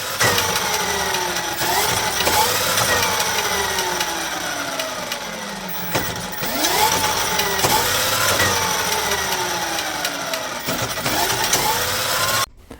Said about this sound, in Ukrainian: Під'єднав фазні провода і датчики хола до контролера для того, щоб перевірити, як воно працює.